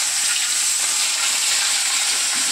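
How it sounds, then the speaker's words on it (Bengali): Sliced onion frying in oil left over from frying fish, a dense, steady, bright hissing sizzle held close and loud for the whole stretch. "চলো মাছ ভাজার তেলে আমি পেঁয়াজটা দিয়ে"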